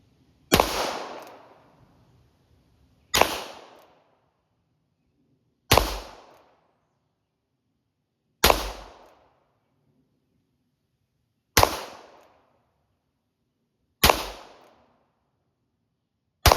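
A Taurus 692 revolver fires .380 rounds, loud single shots spaced about two to three seconds apart in a steady rhythm, each a sharp crack with a short fading tail, and silence between shots.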